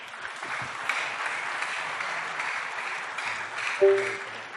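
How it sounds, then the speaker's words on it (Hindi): Applause from an audience at an empowerment training seminar, a steady, moderately quiet wash of clapping with a brief tonal blip near the end. "मान्य है तो तालियां होनी चाहिए"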